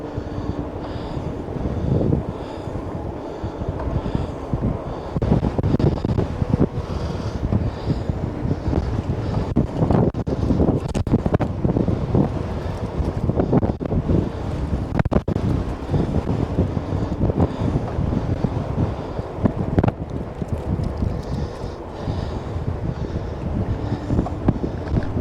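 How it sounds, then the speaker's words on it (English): Strong wind buffets the microphone on an outdoor bike ride in Missouri. The gusting roar is loud and continuous, rises and falls, and nobody speaks over it. "That wind is really blowing."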